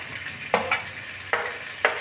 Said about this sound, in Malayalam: പിന്നെ അതിലോട്ട് സ്വല്പം മറ്റേ നമ്മുടെ സബോള ഇട്ടേ.